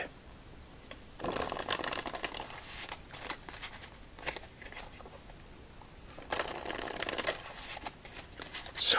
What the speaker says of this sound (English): So far, I think this is my first couple times shuffling the deck.